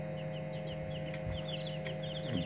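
About twenty day-old white broiler chicks peep continuously in a dense, overlapping chorus of short, high chirps, fairly close, over a steady background hum.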